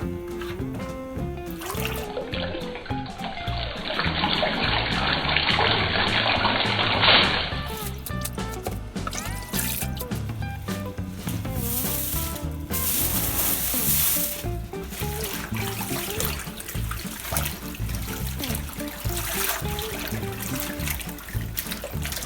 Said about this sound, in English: Continue washing and draining.